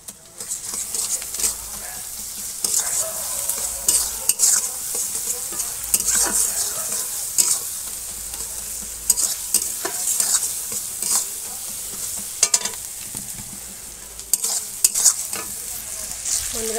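Garlic frying with meat over a wood fire, stirred steadily for a long, close and fairly loud stretch of sizzle with repeated scraping strokes and no speech.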